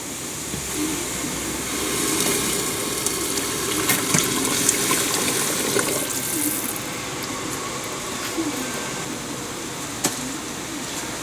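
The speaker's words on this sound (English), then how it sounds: "8 cups of sugar. We're going to dump that in." Eight cups of sugar poured into a pot for jelly making, a continuous grainy hiss and rush of falling sugar, fairly close and steady for several seconds.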